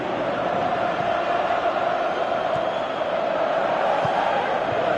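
Dense, steady roar of a stadium crowd in PES 2018 football match, loud and continuous with no distinct breaks, swelling slightly as a comeback builds.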